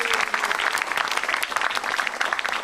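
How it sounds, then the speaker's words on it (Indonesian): Audience applause at a stand-up comedy show, a full, continuous patter of many hands clapping throughout with crowd noise faintly mixed in. "Tepuk tangan buat Metro TV"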